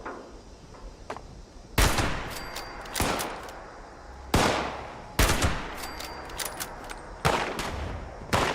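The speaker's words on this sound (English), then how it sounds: "They're shooting blindly." Bursts of gunfire from a firefight in the game Fallout 76, loud broadband volleys arriving in several clusters with short pauses between them, no talking over them.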